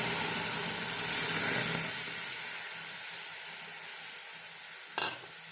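Beetroot water hitting a hot pan sizzles and hisses loudly, then gradually settles into a softer, steady fizz, ending with a brief clink of a utensil.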